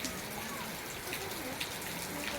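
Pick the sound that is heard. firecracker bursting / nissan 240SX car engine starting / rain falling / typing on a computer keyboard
rain falling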